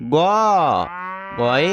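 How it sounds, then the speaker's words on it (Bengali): A cow moos loudly and close by in a long, drawn-out call, then moos again after a brief softer stretch. "গরু বাছুর দাঁড়িয়ে আছে।"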